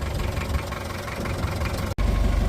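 A tractor engine idles steadily and loud during cleaning of a fuel tank with bolts rattled inside, a low continuous rumble with one sudden momentary cutout near the end before resuming.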